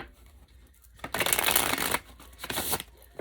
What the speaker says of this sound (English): So I'm just shuffling a couple of times.